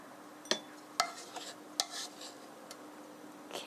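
Utensil scraping and clinking against a pan while sautéed shiitake mushrooms are moved out, with several sharp metallic taps and soft rubbing sounds, close and fairly quiet.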